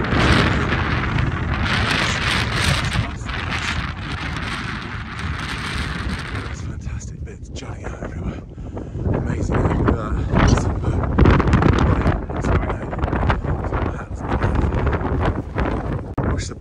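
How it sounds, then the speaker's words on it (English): Strong, steady wind buffets the microphone on an exposed outcrop of the coastal clifftop path between St Ives and Zennor in Cornwall, roaring loud and close with gusty swells throughout. "Windier up here on this first outcrop bit."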